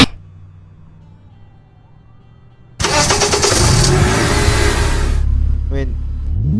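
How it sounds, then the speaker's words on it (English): In the Roblox game, a car engine starts suddenly after a quiet stretch, then rises into a loud, close, sustained rev that holds for several seconds before easing. "you can hear what it sounds like when it starts up"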